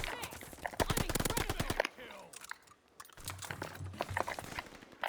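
Rapid automatic gunfire from shooting bots in Call of Duty rattles in a dense burst, then pauses before scattered shots resume alongside faint keyboard clicks.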